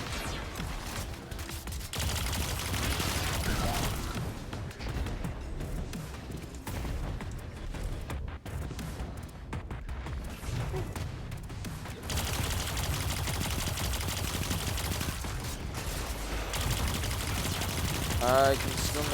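Gunfire in Destiny 2: Beyond Light: a dense, continuous stretch of shots and combat noise that stays steady throughout, mixed with other game sounds and a voice talking.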